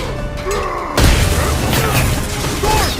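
A grenade goes off in the Halo video game, a sudden loud boom about a second in with crashing debris following, amid ongoing battle noise.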